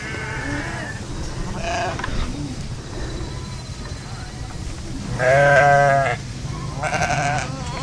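Lambs and sheep bleat in a crowded corral at weaning, several overlapping cries rising loudly near the end over a steady background din, with a person talking.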